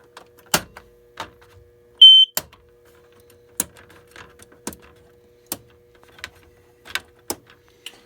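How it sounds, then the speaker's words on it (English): Fire alarm system on full walk test with a Simplex 4041 and a Faraday 5505: sharp, isolated clicks and ticks scattered every half second or so, one brief tonal beep near the start, over a steady faint hum. "I'm probably the first enthusiast to do a system test with the Simplex 4041 and the Faraday 5505"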